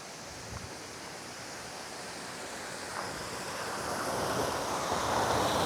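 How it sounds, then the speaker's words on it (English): A waterfall pours into springs, a steady broad rushing wash that grows gradually louder and nearer, with no talk. "Check out this beautiful waterfall"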